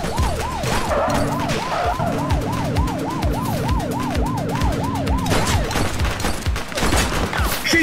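Rapid gunfire rattles in the police video game The Precinct under a loud, continuously wailing emergency siren, with further bursts of shots near the end.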